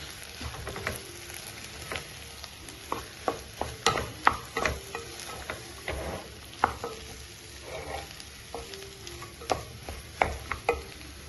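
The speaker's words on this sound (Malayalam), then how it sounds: "കായപ്പൊടി ഇട്ട് കൊടുക്കാം. എന്നിട്ടൊന്ന് നന്നായിട്ട് ഇളക്കി കൊടുക്കാം" A spoon stirs masala dosa potato filling with asafoetida in a sizzling pan, giving repeated sharp scrapes and knocks in an irregular rhythm over a soft, steady frying hiss, close and clear.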